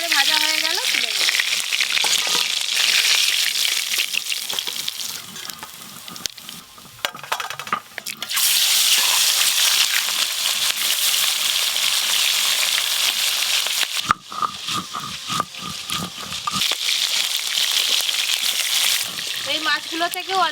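Small tangra fish fry in oil in a pan with a loud, continuous sizzle, broken by stirring and brief dips, while a person talks at times over the frying.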